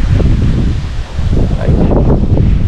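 Strong wind buffets the microphone at Dingalan, Aurora, a loud, continuous roar with gusty surges and rustling throughout.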